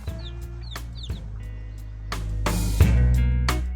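Young backyard hens cluck and peep repeatedly at close range over a steady low hum, with a louder burst of clucking near the end.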